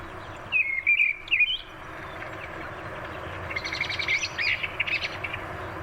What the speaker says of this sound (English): Missel thrush singing.